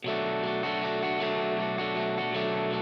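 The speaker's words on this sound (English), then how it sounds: "another guitar that just plays that strumming pattern, very simple, but with a like crunchier sound" A steady, crunchy distorted electric guitar strums a simple chord pattern, sustained and full, playing alone without any voices.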